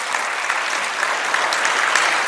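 Audience at a Hindi motivational talk clapping steadily, a dense, even wash of applause from a large crowd filling the whole stretch with no voices on top.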